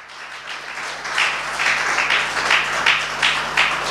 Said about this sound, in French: Oui, acclamons le Seigneur.